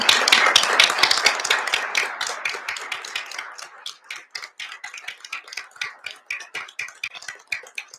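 An audience at a township board of supervisors meeting applauds, starting as a dense wash of clapping that thins into scattered individual claps and fades out.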